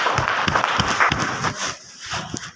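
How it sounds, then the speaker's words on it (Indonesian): Students in a school classroom clap together at a teacher's prompt, a short burst of near, uneven claps with a few louder distinct hits, fading toward the end. "Tepuk tangan semua."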